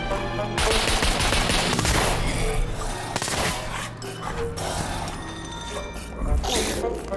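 Rapid gunfire rattles in the SCUM survival game, with dense overlapping shots crackling loudly through most of the clip.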